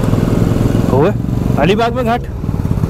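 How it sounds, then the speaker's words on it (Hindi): Motorcycle engine passing on a winding ghat road near Alibag at night, a steady mid-pitched hum running throughout, close and loud, under excited speech from a rider. "ओ माय गॉड, एक बाइक वाला आ गया, उसने तो मुझे डरा ही दिया"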